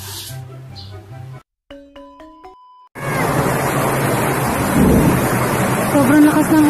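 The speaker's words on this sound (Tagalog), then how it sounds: "Sobrang lakas ng ulan!" Heavy rain pours in a steady, loud roar with deep rumbling beneath it, coming in abruptly after a short run of electronic chime tones.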